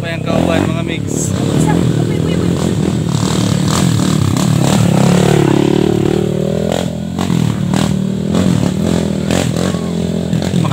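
Motorcycle engine running on a mountain trail during a climb of Mt. Gampoy, a steady close drone with a rising rev in the middle while people talk over it throughout.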